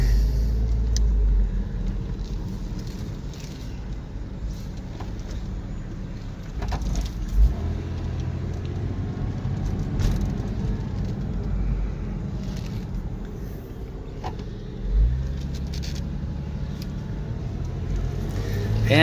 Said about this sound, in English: And here we go on a ride, and the car drives excellent. It's the Boxster S.